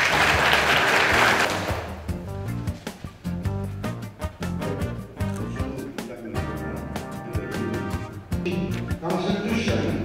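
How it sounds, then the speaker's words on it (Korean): Audience applause at a ceremony marking the 51st anniversary of the Saemaul Undong movement, a dense burst of clapping for about two seconds that gives way to loud music. "큰 박수 부탁드립니다."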